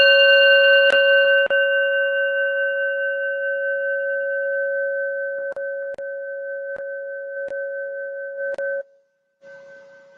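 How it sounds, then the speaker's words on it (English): A singing bowl chime rings out with a sustained pure tone that slowly fades over about nine seconds, struck lightly again a few times, close and clear with no talking. "see how long you can hear this bowl chime for"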